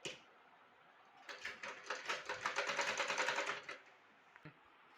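A sewing machine stitches the neck of a churidar, running quiet at first and then breaking into a rapid, rhythmic burst of stitching for about two and a half seconds before stopping, with a few soft clicks afterward.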